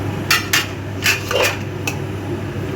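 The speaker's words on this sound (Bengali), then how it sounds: "আলুগুলো আমি দিয়ে দিলাম, ভাজা আলুগুলো দিয়ে দিলাম।" Fried potatoes tipped into a pressure cooker for mutton curry make a handful of sharp metallic clinks and clatters against the pot, close by, over a low steady background hum.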